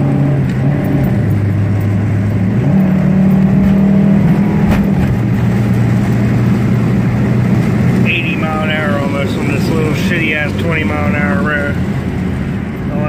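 A front-wheel-drive automatic car's engine pulls steadily, then its pitch jumps sharply and climbs higher as revs rise, like VTEC engaging, with chatter and road noise around it.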